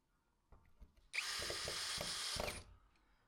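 A power drill fitted with a centering bit bores screw holes for cabinet hinges, starting with a few light taps and then a steady, close, loud whir lasting about a second and a half before winding down.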